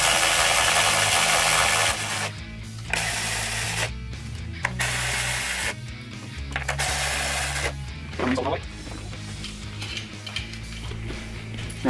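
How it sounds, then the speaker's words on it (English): A power tool drives the coil mounting bolts on a supercharged Gen 2 Coyote 5.0L Mustang engine, in loud bursts of whirring and ratcheting broken by short pauses, close to the mic, with no voice heard. "Now we're gonna reinstall our"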